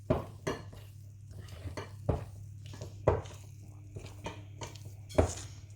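Blue icing tinted with food colouring is mixed in a bowl, heard as a series of close utensil taps and scrapes against the bowl at an uneven rhythm.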